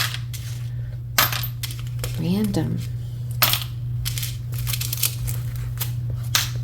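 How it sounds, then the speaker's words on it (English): Tarot cards shuffled by hand in a series of short crisp riffles and slaps against a steady low hum, with a voice speaking briefly in between. "I'm going to shuffle and get you another one"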